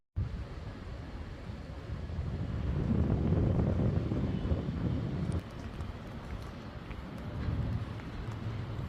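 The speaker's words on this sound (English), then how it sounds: "Like there's some kind of wind." Steady wind blowing outdoors on a hot day in Jeddah, a continuous broadband rush that swells and eases, loud and close on the microphone, with no talking.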